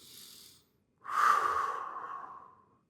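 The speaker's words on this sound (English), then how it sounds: "you want to be breathing deep into your belly button" Deep belly breathing during a kettlebell arm bar exercise: a short exhale, a pause, then one long, near, airy breath that swells and slowly fades, with no talking.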